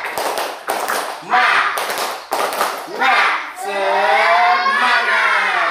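Students in a classroom doing a rhythmic 'tepuk semangat' clap, sharp bursts of group clapping in a patterned beat, alternating with children chanting loudly in unison, ending in a drawn-out shout.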